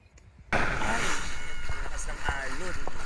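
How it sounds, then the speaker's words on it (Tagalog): Strong sea waves surging and washing at a beach in Cabangan, Zambales, a loud continuous roar rising abruptly after a quiet start, with faint voices underneath. "Lakas ng alon."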